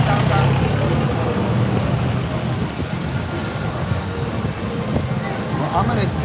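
Rain and gusting wind outdoors, a steady loud wash of noise throughout, with brief speech at moments.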